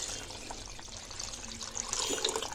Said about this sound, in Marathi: त्याच्यामध्ये आपण एक तांब्या पाणी टाकूया